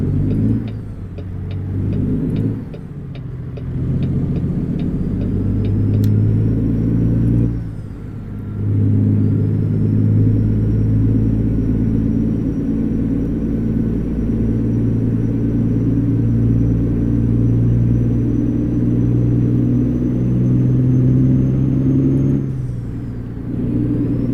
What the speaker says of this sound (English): This truck is quite a bit louder than anything else we've driven for a while.